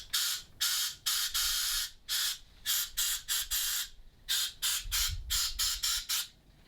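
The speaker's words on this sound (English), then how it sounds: "I'm going to take some of my electronic contact cleaner" Electronic contact cleaner sprayed from an aerosol can in a series of short, sharp hissing bursts, about a dozen of them in quick irregular succession, close and loud.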